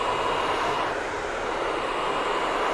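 A hairdryer blows steadily through its nozzle during a slicked-back skin fade styling, giving a constant, close, even whoosh of airflow with no breaks.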